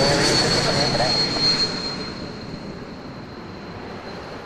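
Air Canada jet at Toronto Pearson Airport at night, a steady broad engine roar with a high whine, loud at first and then slowly fading as it moves away.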